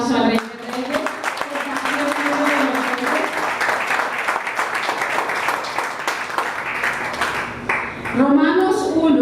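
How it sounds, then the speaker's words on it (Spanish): A Spanish-speaking church congregation applauds with sustained, crowded clapping, while cheering voices and talk ride over the claps and rise again near the end. "¿Por qué no le regalan un aplauso al Rey de Reyes?"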